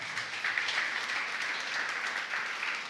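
A church congregation applauds during a morning worship service, producing a steady, dense wash of clapping from many hands that holds at an even level for a few seconds without pause.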